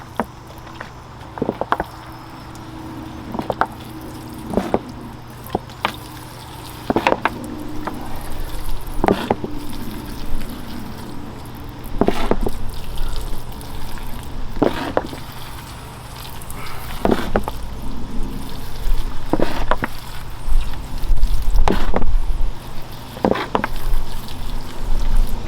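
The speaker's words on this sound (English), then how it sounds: "Let's give it a fresh water." Water is poured and trickles through the sifted soil of a potted ficus bonsai, with repeated splashes and clicks over a steady background hum and louder pouring near the end.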